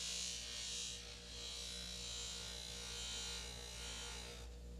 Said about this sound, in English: It's the pumice that does the polishing, not the rag wheel.